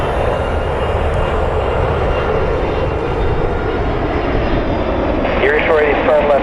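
FedEx Boeing 767 heavy jet inbound in rainy weather, a steady low engine roar close by over constant broadband rumble, with radio voices talking over it.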